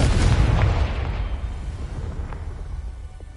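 A Confringo fire spell explodes in Hogwarts Legacy on PS5. It bursts as one loud, deep boom, then rumbles and fades over a few seconds, with a couple of faint crackles near the end.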